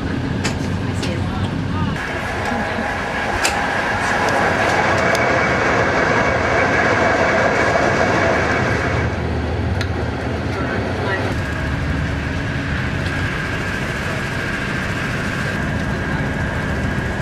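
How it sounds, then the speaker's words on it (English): A train rolls along the rails with a steady rumble and a rattling carriage, heard from inside the car throughout, while people talk over the ride. "Definitely on the train."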